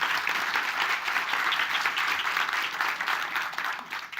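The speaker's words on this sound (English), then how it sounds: "A warm applause." Warm audience applause at a Swedish-Finnish conference on investments for competitiveness and security, a full, steady round of clapping that stays strong throughout before tapering slightly at the end.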